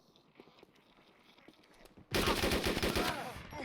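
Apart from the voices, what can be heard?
gunshots from DayZ video game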